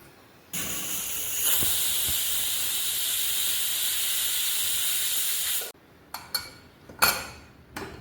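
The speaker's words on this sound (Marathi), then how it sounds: "आता आपण कुकरला झाकण लावूया आणि 1 शिट्टीमध्ये आपली भाजी तयार" A home pressure cooker cooking potato and pea curry releases its whistle as a loud, sustained steamy hiss lasting about five seconds, then stops abruptly, followed by a few light metallic clinks of utensils.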